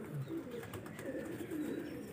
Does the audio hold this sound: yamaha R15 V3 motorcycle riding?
no